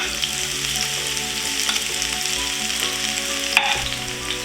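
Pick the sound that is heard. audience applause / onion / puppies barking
onion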